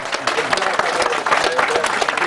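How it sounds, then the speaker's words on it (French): Audience applause at a French commemorative gathering, dense and steady clapping from a crowd over about two seconds, with broadband crackle throughout and possible faint voices mixed in. "On applaudit bien fort les gens."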